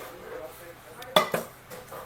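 Prestige pressure cookers of 2, 3 and 5 litre sizes, including a tri-ply model, being handled in a shop, giving a few sharp metallic clanks and knocks over quiet room background.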